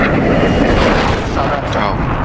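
A loud, continuous roar of an explosion striking an M1A2 SEP tank in War Thunder, dense rumbling blast noise filling the whole moment with a voice speaking over it.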